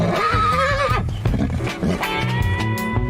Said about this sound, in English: He's going to be prancing, whinnying, snorting.